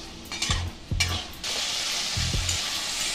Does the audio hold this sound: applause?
no